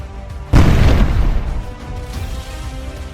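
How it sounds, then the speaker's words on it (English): A loud, sudden boom as an FPV drone explodes against a Russian-held building near Pokrovsk, Ukraine, followed by a rumbling, crackling decay that fades over a few seconds. "a drone slams into a Russian-held building"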